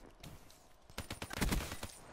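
Gunfire in the video game Call of Duty Black Ops 3: a fairly quiet rattle of rapid shots, with a denser burst of cracks in the middle, over a low background of game noise.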